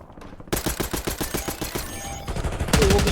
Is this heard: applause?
no